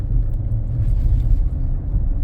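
The petrol engine of a Kia Sportage hybrid rumbles low and steady from inside the cabin, a constant deep drone with no voices.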